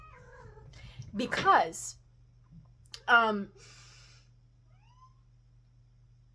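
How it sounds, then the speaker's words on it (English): A pet cat meows excitedly indoors, two loud, rising-and-falling calls about two seconds apart, close to the microphone, with a low steady hum underneath and a brief word of speech. "my cat is like going crazy right now"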